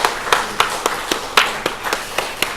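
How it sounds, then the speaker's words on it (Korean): A Korean church congregation clapping in blessing, a handful of sharp, close hand claps spaced unevenly over a couple of seconds, with no voices. "서로 축복하는 마음으로 박수하겠습니다."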